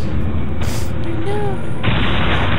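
Gunfire in Resident Evil 4, a loud sustained burst of shots and booms over dense game noise, with a voice talking partway through.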